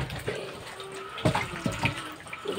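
Tap water runs and splashes as hands and sliced bamboo shoots are rinsed under it, a continuous flow broken by a few louder splashes and knocks, with no talk.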